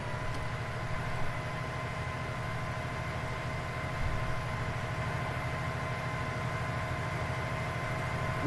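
A model train passes a model level crossing with the gates down, a faint, steady low rumble and hum of a small running train with a few light clicks, continuous and fairly quiet, with no voices.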